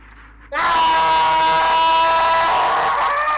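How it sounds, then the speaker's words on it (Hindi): Man letting out a sudden, loud, sustained scream in a horror story, bursting in after a quiet moment and holding strong for about three seconds, close and dominant. "मोहन की अचानक से जोर से चीख निकल गई"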